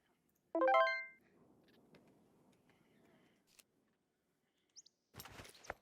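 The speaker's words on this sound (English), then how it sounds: "Turn my cell phone on real quick." A cell phone powers on in the survival video game SCUM, giving a short, bright rising chime near the start, followed by soft low rumbling and a few faint clicks, with a brief burst of noisy rustling at the end.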